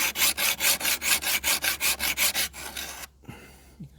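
A hand file rasps along the edge of a scythe blade in about a dozen steady, evenly spaced strokes, close and fairly loud, then stops and leaves a quieter stretch with faint handling noise.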